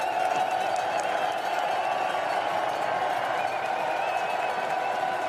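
Belgian cycling fans at the roadside of a world championship race cheer and clap in a continuous loud crowd roar that stays steady throughout.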